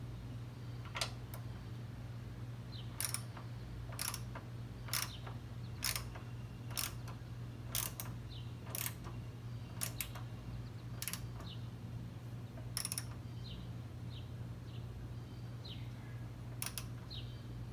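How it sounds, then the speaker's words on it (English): A 3/8 drive ratchet tightens an antenna mount on a 2019 RAM, giving a series of sharp, close ratcheting clicks in irregular bursts over a steady low hum. "using a 3/8 drive ratchet here"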